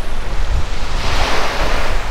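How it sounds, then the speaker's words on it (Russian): A stormy sea on the coast at Dyurso near Novorossiysk, with waves crashing and washing onto the shore in a loud, continuous roar and heavy wind buffeting the microphone. "какое страшное и опасное море здесь, на фоне анапского штиля"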